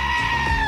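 A loud, close goat bleat in a sports talk radio station jingle, one wavering, nasal cry lasting under a second.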